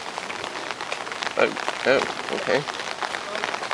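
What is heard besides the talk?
rain falling at Imperial Palace East Gardens, Tokyo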